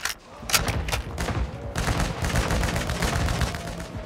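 Dense, sustained gunfire and explosions during a Call of Duty Modern Warfare II Invasion match, with many overlapping shots forming a continuous loud barrage.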